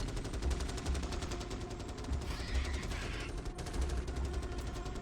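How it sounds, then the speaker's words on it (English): Sustained machine-gun fire from troopers in the Starship Troopers: Terran Command game, a dense continuous rattle of rapid bursts layered over a rumbling battle bed, loud and steady throughout. "Get those MGs firing."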